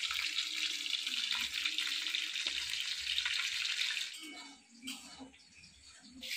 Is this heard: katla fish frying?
yes